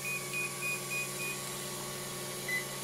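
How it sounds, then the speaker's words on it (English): A Hobbywing Max6 electronic speed controller sounds a string of short, evenly spaced high programming beeps, followed by one slightly higher tone, set against a quiet, steady electronic hum. "That's a beep number one,"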